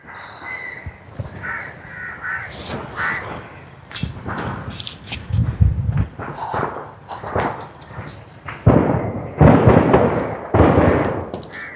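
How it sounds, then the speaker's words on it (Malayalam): Firecrackers for a nearby church festival burst in repeated sharp, loud cracks and pops at irregular intervals, growing denser toward the end, with crows cawing in the mix. "നമ്മുടെ വീടിൻ്റെ അവിടേക്കായിട്ട് പെരുന്നാളുകളുണ്ട്. അതിൻ്റെ പടക്കം പൊട്ടണ സൗണ്ട്"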